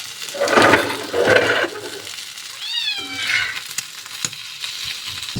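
Chicken liver sizzling in a pan as pieces are turned and roasted, a soft crackling fry with scraping stir noises, while a cat meows loudly nearby in several drawn-out calls.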